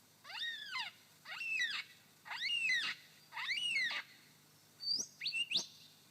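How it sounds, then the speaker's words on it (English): Golden whistler song from a Victorian forest recording: five clear, rising-and-falling whistled phrases about a second apart, the last ending in quick sharp whip notes, fairly close over a faint background. "And that was the golden whistler."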